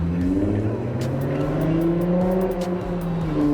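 An 03–08 Nissan 350Z sports car engine revs loudly and up close, a rough, droning exhaust note rising and falling in pitch across a few seconds without a pause.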